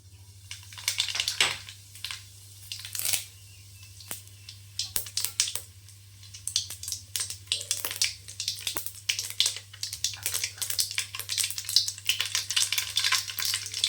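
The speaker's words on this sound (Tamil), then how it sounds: "கடுகு, உளுத்தம் பருப்பு போட்டுக்கலாம்." Mustard seeds and urad dal sizzling and popping in hot oil in a kadai, bursts of crackling and spatter coming in irregular waves over a low steady hum.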